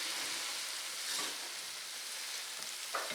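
Cabbage sizzles in a hot skillet while being stirred, a quiet, steady frying hiss with a few soft scrapes and pops close by.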